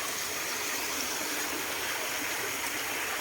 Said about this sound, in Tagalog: ito yung mga ginawa nilang parang stream